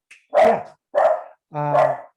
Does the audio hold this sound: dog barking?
yes